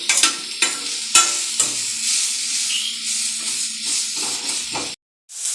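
Sliced onions frying in a pan on a stovetop with a steady loud sizzle, broken by repeated scraping strokes of a spoon stirring them, near and alone, ending with a brief cut to silence.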